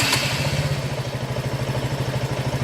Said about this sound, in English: So let's just hear the exhaust note.